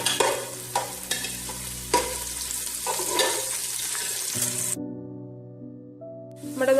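Vegetarian Arabian Bukhari rice ingredients, with raisins added, sizzle in a pan while being stirred, with scraping strokes over a steady hiss that stops abruptly. Soft tonal notes follow.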